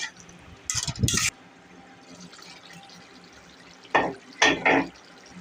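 Fish stir-fried in spices in a pan, with two loud bursts of stirring and sizzling separated by a quieter stretch of low background hiss, and no talking.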